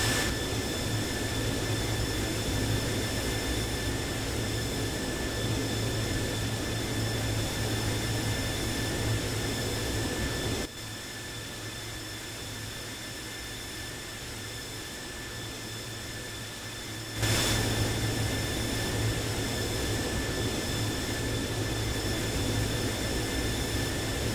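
Boeing 737-800 jet engines in a flight simulator game roar steadily with a high whine, dropping quieter for several seconds midway before surging back up loudly.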